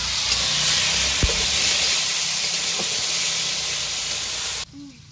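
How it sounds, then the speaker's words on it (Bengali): Potatoes fry in a pan with a loud, steady, steamy sizzle and hiss, with occasional stirring knocks, and the sound cuts away sharply near the end. "এখন আলুটাকে নেড়ে চেড়ে ভালো করে ভেজে নেব"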